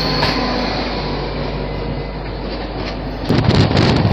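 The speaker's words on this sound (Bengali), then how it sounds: "মেন লাইনে মাল ট্রেনকে দাঁড় করিয়ে এক্সপ্রেস ট্রেন বের করছে লুপ লাইন দিয়ে" An express train runs along a loop line past a freight train halted on the main line, a loud continuous rumble of wheels and wagons that swells with harsher rattling toward the end.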